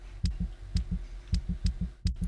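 A steady double-thump heartbeat effect in the game Vampyr, lub-dub pairs repeating about six times in even rhythm, loud and alone with no talk.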